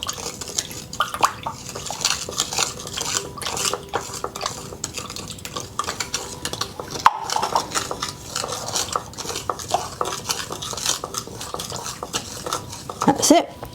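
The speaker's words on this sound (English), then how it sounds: "And then I just add the salt and stir that in." Spatula stirring salt into spelt sourdough starter in a bowl, a steady run of soft scraping and clinking strokes close by for the whole stretch, with no talk.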